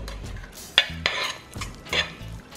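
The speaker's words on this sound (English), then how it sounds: "I'm gonna stir this up" Chocolate spaghetti being stirred in a pot, a few close, quick scraping and clinking strokes of a utensil against the pan over a short stretch, without speech.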